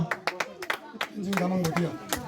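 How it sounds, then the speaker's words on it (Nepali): An audience claps for Master Tenzing at a stage event, with scattered separate claps that thicken into brief applause, while voices sound over the clapping. "Master Tenzing ताली बजाइदिनु होला"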